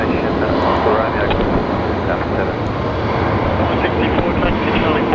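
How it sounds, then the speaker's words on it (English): An Airbus A321neo arriving from Auckland touches down at Brisbane Airport, a broad steady roar of jet engines filling the scene, loud and sustained, with voices faintly underneath. "the 321 Neo from Auckland, just touching down"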